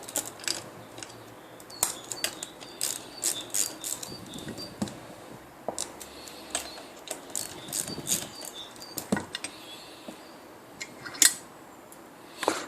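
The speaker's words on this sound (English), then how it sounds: "The next thing to do is to remove the 3 bolts to remove this bottom bracket" Three bolts being loosened from the bottom bracket of a Wabco air suspension compressor on a Jaguar XJ, heard as sharp, close, irregular metallic clicks and ratcheting ticks in quick bursts over a quiet background.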